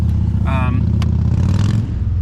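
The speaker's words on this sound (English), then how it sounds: "wait for that motorcycle to go by. Very busy street today." A motorcycle passing on a busy street rumbles close by with a low, steady drone, a brief higher whine riding over it.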